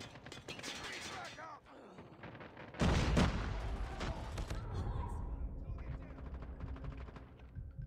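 Gunfire from a sniper rifle in Call of Duty Mobile multiplayer on the Kill House map, a loud burst of rapid shots and booms erupting midway, with game voices calling out over the clatter.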